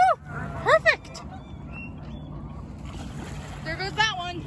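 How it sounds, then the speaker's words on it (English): A goose on a lake gives several loud nasal honks near the start and again toward the end, over a low steady rumble of background water and engine noise. "which goose has the best cannonball or dive to ever happen in the lake"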